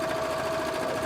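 A sewing machine runs fast and continuously, stitching two pieces of fabric together in a steady, close mechanical whir.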